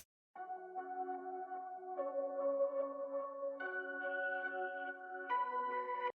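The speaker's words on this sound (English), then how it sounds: "Another plucky sort of subtle melodic loop." A soft, plucky synth melody loops in a steady pattern, layered harmonic notes shifting every couple of seconds, moderately quiet with no voices.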